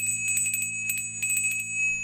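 A dinner bell rings in a quick run of repeated strikes, pausing and then ringing again, bright metallic tones sustained over a low steady hum.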